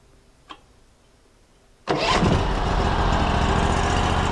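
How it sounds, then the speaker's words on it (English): A small HD38 sawmill engine with a centrifugal clutch and an idle blade: a faint click, a short quiet pause, then the engine catches abruptly and settles into a loud, steady, smooth idle close by. "There's a nice smooth idle, and the centrifugal clutch is doing its job because the blade is not spinning."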